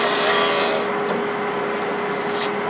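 A woodturning spins on the lathe while a Hope Pro Sander is held against it, making a steady, close, abrasive rubbing hiss that softens a little after the first second, with no voices.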